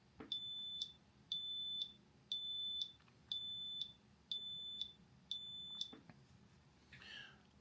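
A Bluetooth wallet tracker alarm sounds six evenly spaced, shrill electronic beeps, each about half a second long and fairly quiet, followed by faint background noise.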